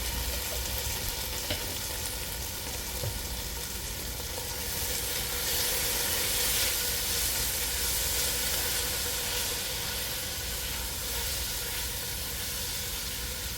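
Garlic frying in grease in a pan gives a steady, close, continuous sizzle and hiss with faint stirring, no voices.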